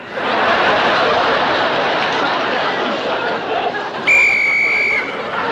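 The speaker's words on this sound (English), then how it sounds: "Oh, there's the whistle." A sharp referee's whistle blows one long, shrill note near the end, cutting through the loud roar of a chattering crowd.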